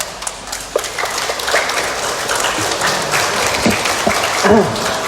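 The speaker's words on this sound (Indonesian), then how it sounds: "Kami silakan berdiri dan berikan aplaus buat kita." A standing audience at a PPBRI declaration event in Bandung, West Java, claps in dense, steady applause for about five seconds, with a few scattered voices rising near the end.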